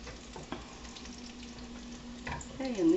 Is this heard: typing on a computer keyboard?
no